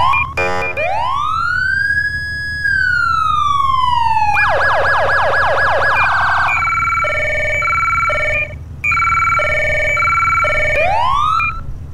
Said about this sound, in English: Sounds like a name for speed siren tone.